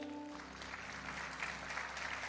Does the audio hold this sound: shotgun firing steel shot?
no